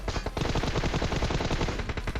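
Rapid automatic gunfire in a shooting video game, a dense, loud burst of closely spaced shots that continues without a break.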